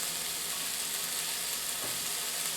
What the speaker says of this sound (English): Okay, we're getting a little sizzle.